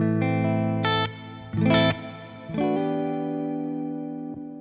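Electric guitar played through a Quad Cortex amp capture, a few clean sustained chords and single notes with sharp attacks, one brief muted strum, ringing out and decaying, played alone with no talking.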